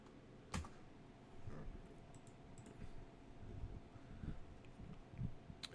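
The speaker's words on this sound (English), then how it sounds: "Let me put this on the other keyboard." Typing on a computer keyboard during a programming session, with soft, irregular key clicks coming in short bursts at a low level, fairly close, and no talking.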